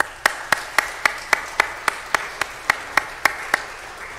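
Church congregation clapping in a slow steady rhythm, about a dozen sharp, evenly spaced claps standing out clearly over a quiet room.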